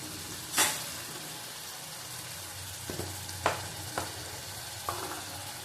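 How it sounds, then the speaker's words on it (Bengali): Salt, Kashmiri chilli powder and turmeric are stir-fried in a pan for doi bhetki: a soft continuous sizzle under several sharp scraping strokes and clacks of a spoon against the pan. "দিয়ে আবার কষিয়ে নেব ভালো করে"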